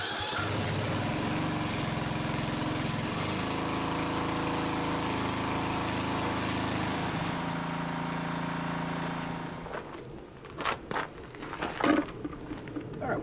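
Yard Machines 639RL lawn mower engine running steadily to warm up, a loud, even mid-pitched drone that cuts off partway, leaving faint clicks and handling noises afterward.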